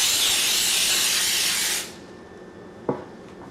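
A spray can hissing over petits fours from a distance, a loud continuous spray for about two seconds that cuts off abruptly, followed by quiet and a single small knock.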